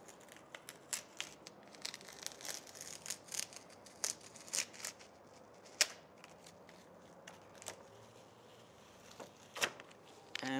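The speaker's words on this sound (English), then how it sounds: "I'm just going to place this down and peel that stencil off" A paint stencil is peeled off a wall in a quiet, close run of papery crackles, crinkles and light ticks that comes in irregular bursts over about ten seconds.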